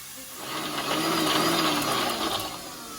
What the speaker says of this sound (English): I'm going to coarsely grind the ginger, garlic, green chili and the mint.